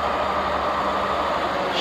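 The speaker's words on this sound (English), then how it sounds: "Tractor starts, runs, drives, shifts good." A 1976 John Deere 4430 tractor with about 5,928 hours runs its diesel engine close by, a steady, loud rumbling drone with no break across the short stretch and no voices.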